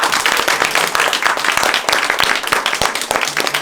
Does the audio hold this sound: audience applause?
yes